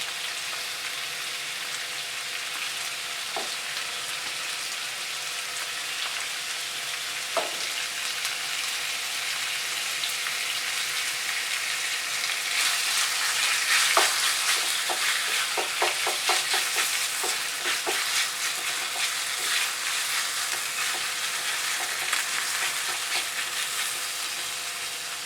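Shrimp and bamboo shoots stir-fry in a pan with chili sauce, a steady sizzle broken by clicks and scrapes of stirring that get busier partway through, with no talk.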